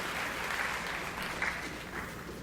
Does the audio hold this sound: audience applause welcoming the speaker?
yes